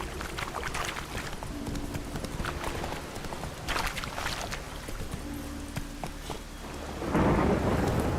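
Roach, Geralt's horse in The Witcher 3, gallops in rhythmic hoofbeats over rumbling thunder and steady rain, with the storm swelling louder near the end.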